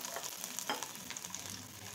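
Garlic dropped into hot oil already flavoured with cumin, a quiet close sizzle with soft crackles and a brief stir, no talk.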